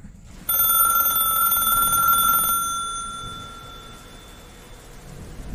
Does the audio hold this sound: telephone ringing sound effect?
yes